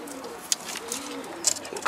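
A racing pigeon chick coos softly outdoors in short, faint calls, with a couple of brief chirps over low background noise.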